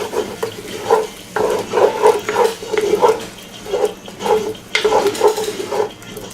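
Deglazing a pan while cooking round steak in gravy: liquid hits the hot pan and sizzles, with repeated bursts of scraping and stirring, close and loud.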